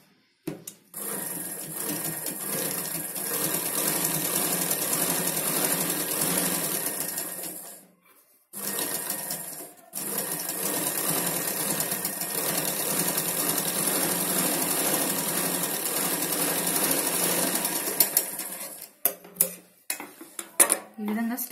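Sewing machine stitching Punjabi dress pants, running in long steady bursts with a brief pause near the middle, close and loud, then stopping into a few short clicks and handling knocks at the end.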